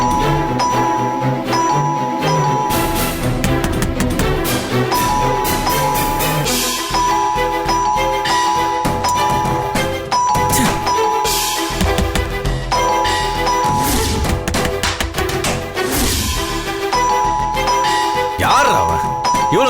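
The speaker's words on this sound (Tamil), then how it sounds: "இவ்வளவு நேரம் காலிங் பெல் அடிச்சுக்கிட்டே இருக்கான்." Repeated bright chiming tones ring out over a dense, busy music track, like a doorbell sounding again and again.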